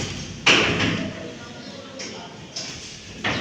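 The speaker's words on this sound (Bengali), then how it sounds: "যাও, সাথে দরজাটা লাগাই দিয়ে আসো," A door is pushed shut with a sharp thud, followed by a few softer knocks and thumps nearby in a shop during a storm.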